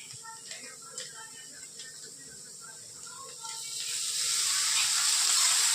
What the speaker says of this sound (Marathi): गवार थोडंसं तेलात परतून घेणार आहोत